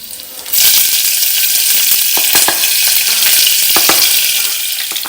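Green chillies hit hot oil in a tadka already holding mustard seeds, cumin, ginger, garlic and curry leaves, setting off a sudden loud, steady sizzle with scattered sharp pops and crackles, all close up.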